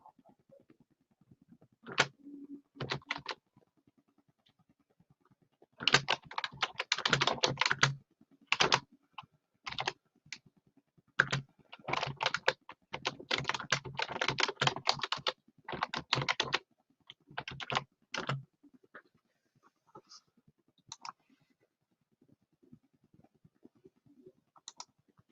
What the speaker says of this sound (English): I'm not a fast typer.